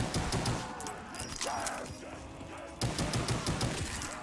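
Weak, light gunfire in a Black Ops 3 custom Zombies map, Below Zero, with quick faint pops in short runs over ambient game noise and a faint passing whoosh.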